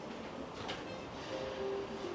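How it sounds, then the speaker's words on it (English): A train in Sasebo rumbles past at a distance, a low continuous roar with a faint rising whine or screech near the end, heard alone without talk. "I can see the train from here"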